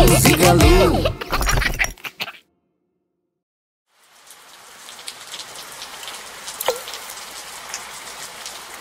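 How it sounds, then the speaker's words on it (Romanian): Steady rain falling on a surface as a sound effect in a children's song, after a singing voice with music cuts off and a short silence, with scattered drops and occasional louder plops, moderately loud and alone. "Pleacă ploaie, te rugăm."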